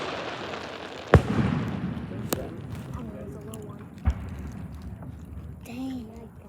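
Fireworks going off outdoors: a sharp loud bang, then two fainter pops spaced a few seconds apart, with crackling trails and people talking and exclaiming throughout.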